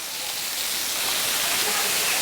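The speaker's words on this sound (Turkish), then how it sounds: "Şu anda Kurşunlu Şelalesi'nin alt kısımlarındayız." Kurşunlu waterfall roars as a dense, steady hiss of falling water heard from the lower pools, broad and unbroken throughout.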